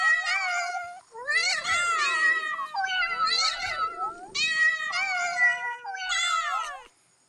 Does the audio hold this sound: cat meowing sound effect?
yes